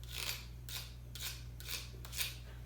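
A spoon scraping orchid potting medium at home, five short rasping strokes at a steady, slightly uneven rhythm, close and fairly quiet over a low steady hum.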